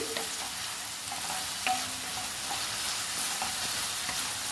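Vegetables fry in a hot pan with a constant sizzle, while a spoon stirs and knocks against the pan every so often, heard up close with no talking.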